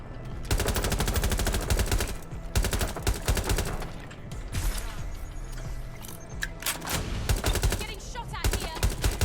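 Relentless gunfire in the Watch Dogs Legion video game, with loud rapid automatic bursts and single shots packed together, interrupted by occasional short gaps and underlaid by game voices.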